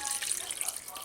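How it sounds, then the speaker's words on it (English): Clean water pouring from a tap onto cut vegetables in a pan, a steady, hissy splashing stream running throughout the short moment. "So I'm going to add a bit of clean water"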